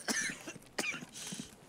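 Two short coughs from an enemy in SPT Tarkov, quiet and somewhat distant, with faint rustling between them.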